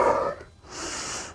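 A deep, audible exhale during a daily strength and mobility exercise routine, breathy and close, following a brief breathy gasp and a short quiet pause, with no talking.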